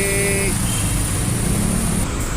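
Steady road traffic rumble of cars and trucks in a congested jam, a continuous dense wash of engine and tyre noise with a brief tonal horn-like note near the start.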